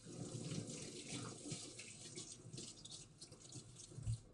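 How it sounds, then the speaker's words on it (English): Raw chicken being quickly rinsed under a running kitchen tap, a faint steady stream of water splashing with a brief louder splash near the end. "just quickly rinse it off."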